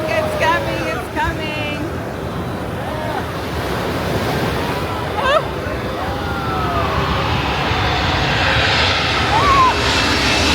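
A KLM airliner comes in low over Maho Beach with a broad, rising engine roar that grows louder, mixed with steady surf and wind at the shore, and voices talk over it.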